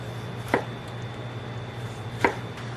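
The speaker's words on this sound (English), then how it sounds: "now we have our tomatoes, and we're going to slice them a little on the thin side" Knife slicing tomatoes thinly on a board, with two sharp, isolated cuts about two seconds apart over a low steady hum, no talking.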